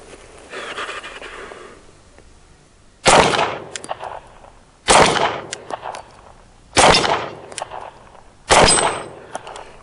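Four gunshots ring out at a Do-All Outdoors Blast Back steel target, each a sharp loud crack with a metallic ring, spaced about two seconds apart at an outdoor range.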